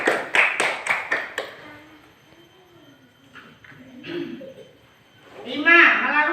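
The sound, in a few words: class clapping hands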